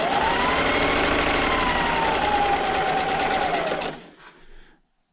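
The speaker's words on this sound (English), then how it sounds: "And then just sew that seam." A sewing machine stitches a quilt seam in a fast, steady whirring run with a rising hum, then stops abruptly with a brief clatter.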